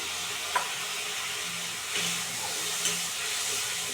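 Egg potato curry sizzles and fries steadily in a pan as water is poured in, a continuous hiss with a few soft splashes and stirring clinks, close and fairly loud with no talk.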